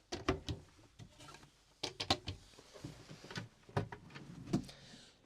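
Several sharp knocks and sliding clatters of a deep motorhome drawer being opened and handled nearby, in quiet surroundings.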